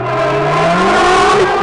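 A car engine in a video game revs steadily through a five-speed gearbox, one continuous rising drone with a gliding pitch, loud and close with no talk over it.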